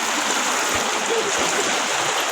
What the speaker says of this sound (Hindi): कितनी जोरों की बारिश हो रही है, बहुत ज़्यादा सब जगह